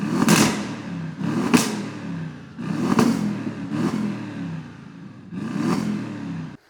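Audi RS6 C7 with its big engine revving hard in a run of about five sharp blips, each rising and falling quickly with short gaps, loud and close, with no talking.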